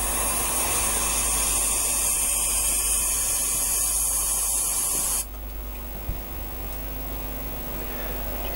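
Carburetor and valve cleaner sprays steadily from an aerosol can into a cap for soaking a motorcycle valve, a loud continuous hiss for about five seconds that stops abruptly, leaving a faint hum.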